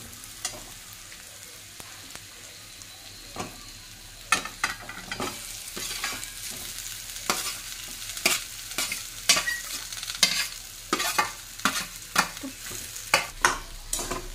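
Boiled, lightly mashed potatoes (five or six large ones) are stirred into a spice mixture for spicy katvada. Close, repeated scraping and squelching spoon strokes come in an uneven rhythm, growing louder and busier toward the end, with no talk.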